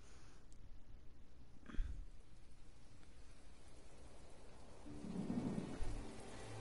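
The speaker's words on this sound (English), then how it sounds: "Oh, it's raining." Steady rain patters throughout a rainy scene in the farming game My Time At Portia, with a sharp thunder crack near the middle and a low rumble of thunder building toward the end; no one speaks.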